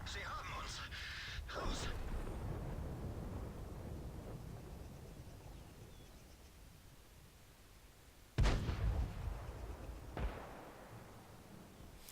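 Artillery shells landing in the tank battle game World of Tanks, with a sharp loud boom and a second blast about two seconds later, over background game rumble and someone talking.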